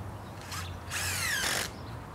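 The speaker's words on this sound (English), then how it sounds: "Then drive the screws together." A power drill drives screws during an exterior door install: two short whirring bursts, the second longer and rising in pitch, heard close and alone.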